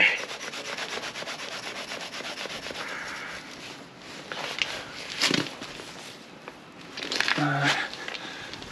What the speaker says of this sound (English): Get some of this dried on grease out.